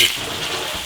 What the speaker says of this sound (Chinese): 把腊肉煸香，把它的油脂给煸出来。